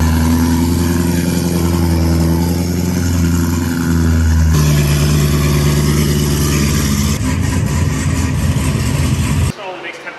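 A 600 wheel-horsepower Cadillac with a 10-pound boost engine, loud sustained revving with rising and shifting pitch through several steps, cut short near the end.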